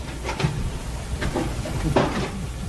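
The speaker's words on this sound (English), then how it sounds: "I will lock the door" A door is shut and locked in a radio drama, heard as a few distinct wooden thumps and latch clunks over a steady room hiss.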